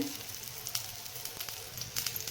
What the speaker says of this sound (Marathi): आपण हे मंद चांगले फ्राय करून घ्यायचे